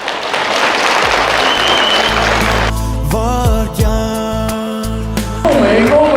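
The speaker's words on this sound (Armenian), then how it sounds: "Լավ, շնորհակալ ենք ծափերի համար" Dense clapping from a crowd at a family celebration, cheering the bride, fills the first couple of seconds, then gives way to loud music with sustained tones that carries on to the end.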